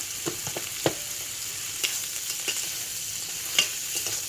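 Raw shrimp seasoned with turmeric and salt frying in a pan, a steady close sizzle punctuated by scattered spatula scrapes and taps as the prawns are stirred, with no voices.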